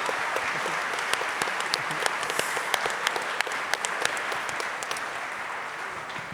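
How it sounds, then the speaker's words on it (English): Dense, sustained applause from a large audience at a music venue industry event, steady clapping with scattered louder claps running throughout without pause. "A round of applause for Ticketmaster"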